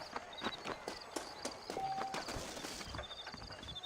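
Horse hooves clip-clopping in the Western video game Red Dead Redemption, a steady run of close, sharp hoof beats at a quick gait, mixed with game ambience.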